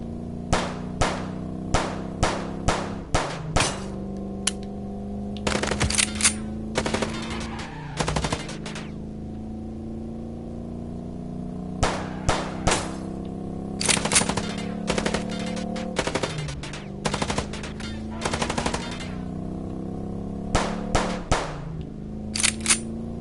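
Machine gun fire from the Chicken Police video game comes in repeated loud, sharp bursts of rapid shots separated by short gaps, over a steady low game hum.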